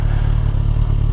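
A superbike engine drones steadily and loudly close by on a village road, with a low rumbling hum and some clatter, and no talk over it.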